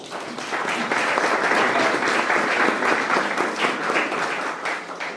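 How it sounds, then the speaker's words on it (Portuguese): Church congregation giving a round of applause at a worship service, a sustained burst of many hands clapping that swells quickly, holds steady and tapers at the end. "Vamos agradecer o irmão Conrad com uma salva de palmas"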